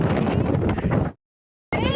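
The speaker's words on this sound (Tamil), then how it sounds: "காத்து பின்னுது" Strong seaside wind at Mahabalipuram roars against the microphone in loud, continuous gusts, broken by a brief total dropout before the blustering resumes.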